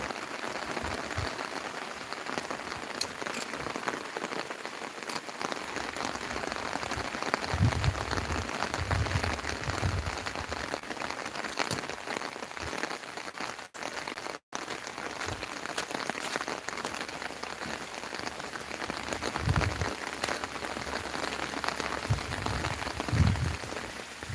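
Steady rain falls across the open landscaped grounds of Hill View Park at Cheruthoni, Idukki, a dense, even hiss of drops on surfaces that continues without a break and with no voices.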